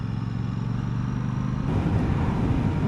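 A Royal Enfield Classic 650 motorcycle coasts off the throttle while slowing, giving a steady mechanical whine over low road and wind rumble that gets a little louder partway through.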